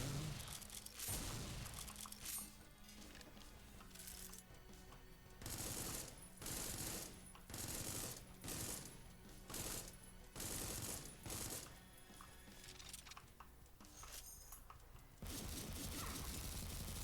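Heavy video game gunfire from many guns, with dense rapid bursts and booming shots crowding together, loud and near, pausing briefly between volleys.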